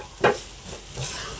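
Mustard seeds and chillies sizzling softly in hot oil while being stirred for a Kerala mathanga erissery, a faint steady crackle with a couple of brief louder scrapes and pops.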